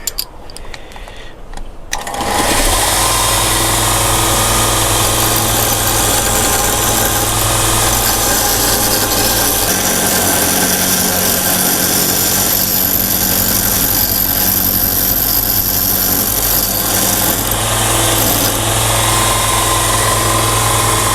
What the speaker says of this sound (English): grind some of the socket body away and hopefully we can fit it in